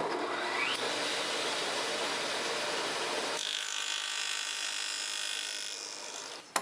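A dado head on a saw cuts a pass through wood for a box joint jig, a loud steady whine that drops in pitch partway through as the blade bites, then winds down, with no talking.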